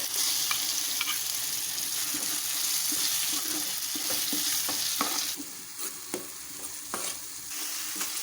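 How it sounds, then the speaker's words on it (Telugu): Onions and onion paste frying in oil for a fish curry, a dense, loud, close sizzle with scattered stirring scrapes that settles slightly quieter partway through. "ఇప్పుడు ఈ ఆనియన్స్ ఈ విధంగా ఫ్రై అయినాయి కండి, ఇందులోనే మనం ఆనియన్ పేస్ట్ కూడా వేసుకోవాలి."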